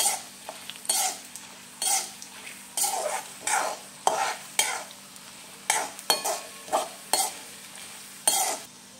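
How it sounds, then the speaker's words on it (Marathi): Red chillies fry in a pan with lentils, heard as a series of about a dozen close stirring scrapes, each carrying a burst of sizzle over a soft steady hiss. "लाल मिरच्या, तर आपल्याला हे चांगलं फ्राय करून घ्यायचं आहे आधी"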